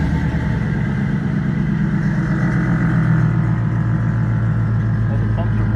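Air ride suspension pumps on a 1951 Chevy run steadily with a constant mechanical hum and motor drone throughout, loud and close, with voices partly mixed in.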